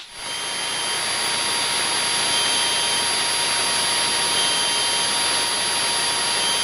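Steady, loud cabin drone of a Cessna light aircraft engine in flight, turning onto right base for runway 31 at Gnoss; a constant broadband roar holds throughout with no talk.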